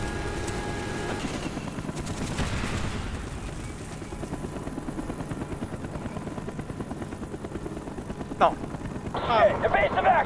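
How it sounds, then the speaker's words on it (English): Gunfire and explosions from the video game Call of Duty Black Ops during a combat mission, with a continuous helicopter rotor drone under dense shooting, a sharp blast near the end and radio-style voices talking over the action. "X-ray, we're under heavy fire!"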